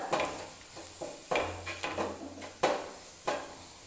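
Spice masala roasting in a pan for an egg paratha filling, with repeated sharp scraping and stirring strokes of a spoon against the pan over a soft low sizzle, close and fairly loud.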